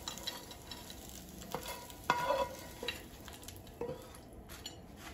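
Crispy potatoes sizzle quietly in a frying pan, with a few scattered clinks and scrapes of a utensil against the pan.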